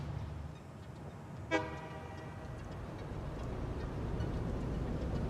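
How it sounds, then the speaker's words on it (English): A train arrives in the Satisfactory video game, sounding one short tooting horn blast early on over a steady low rumble of running machinery that fills the rest of the clip. "Oh, the train's just come back."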